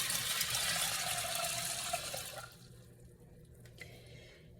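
Hot water pours from a kettle into a stovetop pot holding half a pound of dried black beans, a soft splashing stream that fades out after about two and a half seconds and is followed by quiet clinks.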